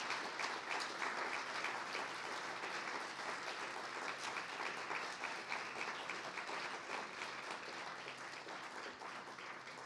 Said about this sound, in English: And a round of applause for you, the audience